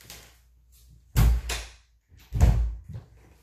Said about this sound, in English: So I'm gonna close the door and I'll open it right again.